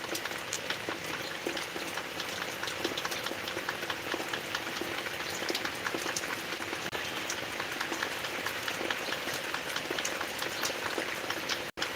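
Heavy rain pours steadily on a farm, a dense, constant hiss of countless drops spread evenly throughout, loud and unbroken, with no voices.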